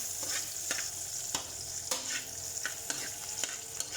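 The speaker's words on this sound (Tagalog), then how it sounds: "Sartin natin ang bawang." Garlic sautéing in a pan for a Filipino-style chicken curry, with a steady hot sizzle broken by repeated scraping clicks of a stirring utensil, close and continuous with no talking.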